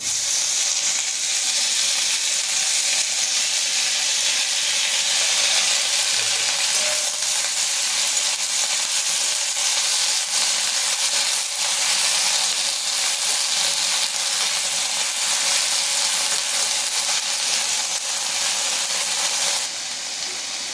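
Steady, even sizzle of drumstick leaves frying in a pan, a constant hiss with faint crackles, dropping off abruptly at the very end.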